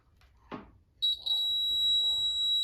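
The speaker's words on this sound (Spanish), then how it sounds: "Cuando yo lo cierro el circuito, se oye el funcionamiento del zumbador." An electric buzzer wired in a simple circuit closed with a piece of zinc starts up after a soft click, holding a steady high-pitched electronic tone to the end, fairly quiet.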